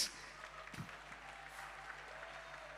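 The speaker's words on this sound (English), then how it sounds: "and can we applaud, please?" An audience at a university alumni meet applauds in a steady, even patter of many hands, moderately distant and sustained without pause.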